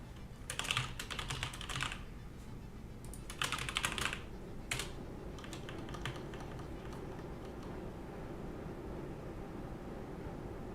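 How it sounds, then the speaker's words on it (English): Fast typing on a computer keyboard in short bursts of clattering keystrokes separated by pauses, over a steady low background hum. "This is a typing ASMR channel now."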